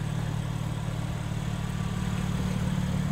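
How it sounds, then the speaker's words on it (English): A 2024 BMW M2 Coupe idles with its exhaust valves open, giving a steady, deep, rumbling drone that holds even and continuous throughout, close by and free of any speech. "I have the exhaust open, so you'll be able to hear the noise just while it's idling"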